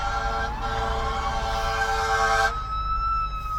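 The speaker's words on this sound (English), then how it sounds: "Oh, fire truck." A fire truck siren wails loud and steady from a nearby road while a car pulls over, its pitch holding then dropping and thinning near the end as the truck passes.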